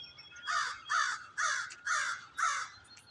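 Five loud, harsh crow caws come in an even, rhythmic series at moderate distance outdoors, each call rasping and separated by short pauses, with no voices.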